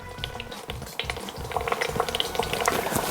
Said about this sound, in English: So that's it, drawing oil out.